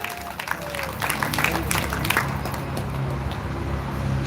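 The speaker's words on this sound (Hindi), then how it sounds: "जोरदार ताली बजाएं" Audience at a Shrimad Bhagwat Katha religious gathering breaking into scattered clapping, moderately loud and sustained, with crowd murmur and a voice over a loudspeaker running underneath.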